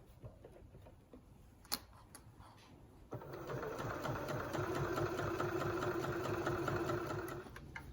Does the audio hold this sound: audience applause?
no